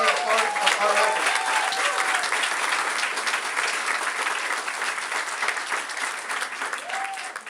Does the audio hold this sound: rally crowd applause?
yes